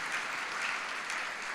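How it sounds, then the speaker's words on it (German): An audience applauds at an award-winners' talk event for a Heilbronn civic foundation, with a short, even patter of clapping and no speech. "der Applaus ist wichtig"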